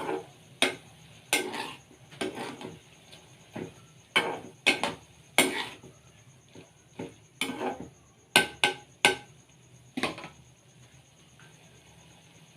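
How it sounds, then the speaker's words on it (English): Spoon stirring and scraping through a bowl of prawn cutlet mixture with garam masala, a series of short, close clinking and scraping strokes in an irregular rhythm, with no voices. "and now nicely mix it"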